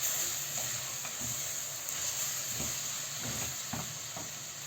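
Onion and tomato paste sizzling steadily in a pan while being sautéed for a chickpea stew, with a constant close hiss and a few soft scraping stirs.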